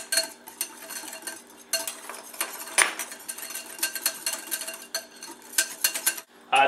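A spoon stirs Parmesan into a pizza sauce mixture in a bowl, making irregular scraping and clinking strokes close by, with brief pauses between bursts and no talking.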